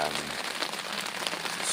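Rain pattering on a surface at a semi-wild campsite, a steady close hiss with scattered individual drops throughout the brief moment, no talking.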